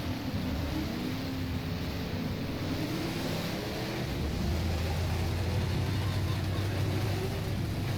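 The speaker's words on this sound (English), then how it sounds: "I love that whine sound that comes through the drivetrain when it's under low idle." A big block modified race car in rFactor at Lebanon Valley idles low, giving a steady, droning drivetrain whine with a humming engine underneath, continuous and close throughout.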